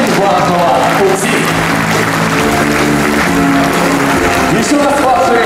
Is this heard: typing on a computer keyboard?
no